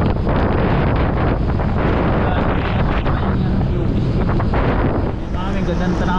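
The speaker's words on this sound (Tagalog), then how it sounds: "medyo malakas ang hangin dito mas malakas dito" Strong wind gusts roar across the microphone in a loud, continuous rush on a ride along a lakeside road, with a faint voice now and then beneath the buffeting.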